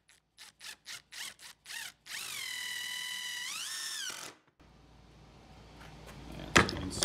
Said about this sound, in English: I'm going to use an impact driver to run these screws in.